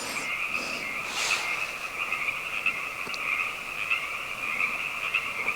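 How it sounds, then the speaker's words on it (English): A continuous, trilling frog chorus drones steadily at moderate distance, unbroken throughout, with no talking. "I think it's just a frog."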